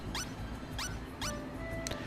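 A dog-like Digimon in the video game Digimon World Re:Digitize gives three quick, bright, synthetic yips in a row, followed by a fainter chirp over a low game background hum.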